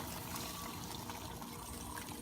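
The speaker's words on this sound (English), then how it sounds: "And put a little bit of water, like a cup of" Water pours into a pot of pork kare kare, a steady faint trickling and splashing that continues evenly throughout with no voices.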